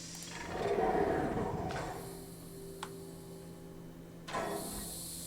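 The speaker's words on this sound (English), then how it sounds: "the steam's coming out of there now" Steam hisses from a pipe in the puzzle game Escape First Alchemist, a broad steady hiss that swells early, eases, then flares again near the end, with a brief tick in the middle.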